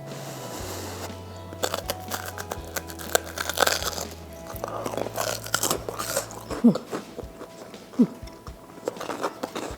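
Crusty bread, crisp outside and soft inside, served alongside goulash, is bitten and chewed up close, giving a series of sharp, dry crunches spread irregularly across the stretch with no talk.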